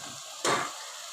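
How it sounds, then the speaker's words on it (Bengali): Ginger and ground spices hit hot oil with tomato for a fish curry, giving a sudden loud sizzle that flares up then settles into a softer steady frying hiss, close by with no talk. "এর মধ্যে এবার আমি আদা দিয়ে দেবো এবং গুঁড়ো মশলাটা দিয়ে দেবো, দিয়ে ভালোভাবে কষাতে থাকবো।"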